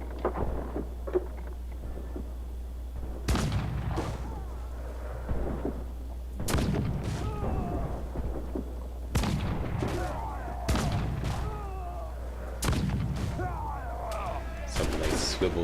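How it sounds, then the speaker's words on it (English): Swivel guns fire aboard a ship in Assassin's Creed 4, sharp loud blasts roughly every three seconds, each trailing into rumbling echoes and debris over a low steady hum, with a voice talking between shots. "Some nice swivel gunnery there."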